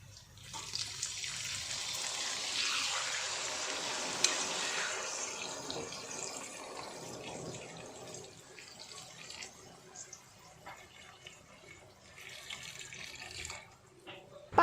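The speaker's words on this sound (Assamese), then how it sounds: "ইয়াত মই এতিয়া দি দিম পানী" Water is poured into a pan of chicken curry, giving a soft, steady splashing stream for several seconds that tapers off, faint and close, with scattered light kitchen noises afterward.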